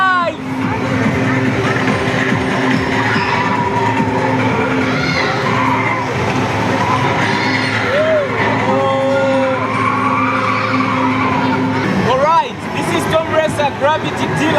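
Tires screech in a skid on a Gravity Deluxe arcade driving game at a Fun World amusement arcade, with engine roar and steady crowd chatter filling the busy hall throughout.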